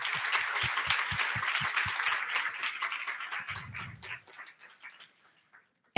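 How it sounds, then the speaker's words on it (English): A conference room audience gives a round of applause, a close, moderately loud patter of many hands that thins out and fades to near silence over a few seconds. "So just a huge round of applause for everyone in this room."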